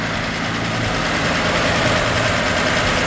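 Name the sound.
1954 Chevrolet 3100 pickup truck engine idling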